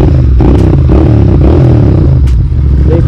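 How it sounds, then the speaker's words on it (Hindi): A Royal Enfield Interceptor 650 (2023) engine rumbles loudly and continuously up close, a deep throaty exhaust drone with some rattling. "एग्जॉस्ट सुनो इसका"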